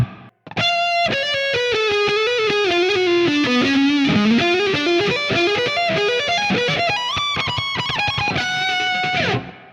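An electric guitar played through a Soldano SLO amp tone on an IK Multimedia ToneX delivers a creamy, heavily distorted lead line, sustained notes and bends ringing out loud and alone.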